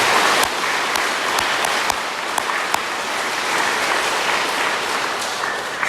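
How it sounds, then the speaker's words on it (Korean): Applause from a church audience at a Catholic parish gathering in Yongin, steady dense clapping that fills the room throughout, with a few sharper individual claps standing out. "앞으로의 용인 성당 꾸리아 또 프레시디움을 위해서 박수 한번 칠게요"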